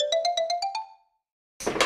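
An IKEA alarm clock rings a bright electronic ringtone, six or seven quick even beeps over about a second, close and clear, then stops; after a brief silence comes a short burst of broadband noise like handling.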